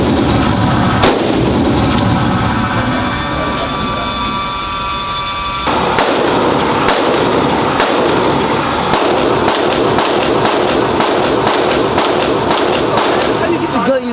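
Gunfire at a shooting range: loud sharp shots, several spaced apart early, then a rapid run of repeated blasts in the second half, with people talking between them.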